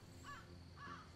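Two crow caws from the video game Dusk, each a short harsh call about half a second apart, moderately faint against a low ambient background with no talk.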